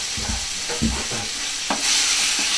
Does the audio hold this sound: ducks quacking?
no